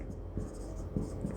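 A pen scratches briefly across paper up close, a few short faint strokes over low room noise.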